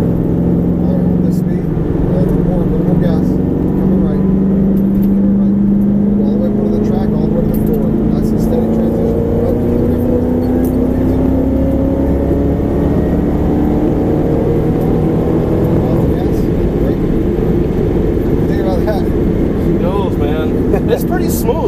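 A Chevrolet Camaro ZL1 accelerates on a track with a loud, steady engine drone whose pitch rises gradually, heard from inside the cabin and continuous throughout.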